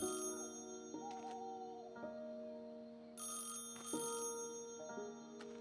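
An in-game telephone in Highly Likely rings in repeated electronic bursts of tones over a steady hum of background music, fairly quiet and with no talking.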